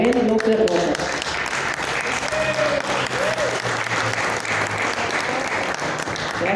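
An audience claps steadily for an author at a book presentation, a dense, even wash of applause lasting throughout, with faint voices and a low hum beneath it.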